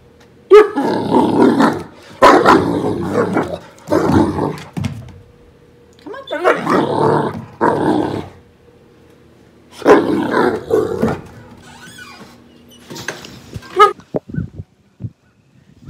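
A 7-month-old puppy lets out several loud, rough growling barks in bursts with pauses between them, close by on a farm, ending in a few short yips.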